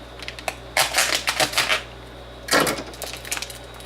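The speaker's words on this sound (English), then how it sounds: "And now what I'm going to do is open the bag." Someone cuts open a plastic bag holding a frozen pot roast, making crisp crinkling and rustling bursts with sharp ticks, two clusters close by, with no talk.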